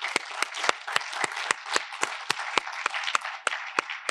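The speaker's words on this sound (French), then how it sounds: "Et le gagnant qui est Stellantis, qu'on peut applaudir très fort" An audience applauds the winner Stellantis at an advertisers' awards event, with brisk, dense clapping and sharp individual claps standing out in a steady rhythm.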